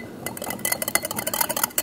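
A tiny whisk rattling quickly against a cup as a drink mix is stirred: a fast run of close, light metallic clinks that goes on for about two seconds.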